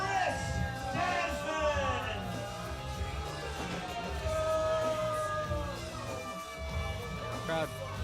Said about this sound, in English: Crowd booing Chris Desmond and world renowned per usual